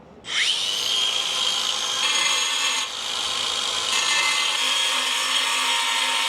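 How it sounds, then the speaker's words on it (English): An angle grinder cuts a slot into a wooden stump, giving a loud, steady high whine with gritty rubbing that rises as the disc bites in, dips briefly, then carries on close and continuous without talk. "we're going to chop this right into here with the grinder on the side so we can run a strap through"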